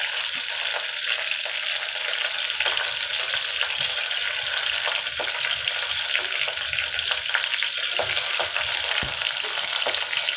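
Dried red chillies and slit green chillies fry in hot oil for a mutton dish, giving a loud, continuous, close-up sizzle and crackle throughout with no pauses.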